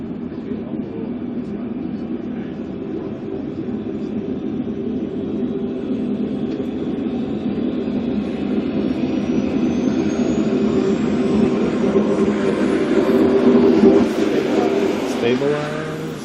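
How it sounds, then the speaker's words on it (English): Left jet engine of an aircraft starting up, a rising whine building under a broad steady roar that grows louder and peaks near the end, with voices speaking over it. "Crew chief, let's go for left engine start."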